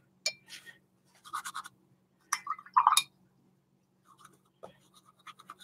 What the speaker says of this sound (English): Let me grab a little brush.